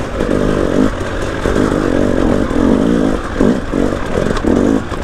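An enduro dirt bike on a muddy trail revs hard in repeated loud bursts, its engine close and raw, surging and dropping several times in quick succession without any talk.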